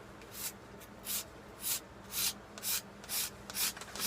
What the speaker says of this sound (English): I'm going to bend the file forward more so I can get a little more angle on the edge